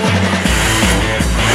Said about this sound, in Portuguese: Com o perdão do barulho de motor ao fundo